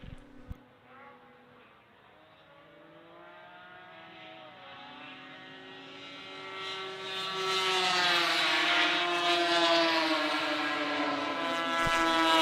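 A 1974 Ski-Doo leads a field of racing snowmobiles at a power toboggan championship, engine whine rising steadily from a distant drone to a loud, high buzzing pass.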